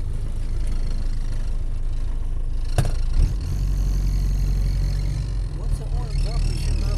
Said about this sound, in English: that's the air-cooled engine